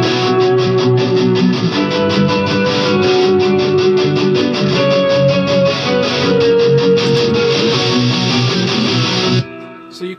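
Volume-swelling guitar blends into a full band mix, sustained layered tones droning steadily for about nine seconds before cutting off abruptly.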